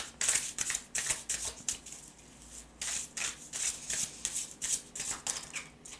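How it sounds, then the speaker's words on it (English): Tarot cards being drawn and shuffled from a deck, a run of quick papery riffs and flicks in clustered bursts with brief pauses, close and fairly quiet, no voices. "I want to immediately take 3 cards here."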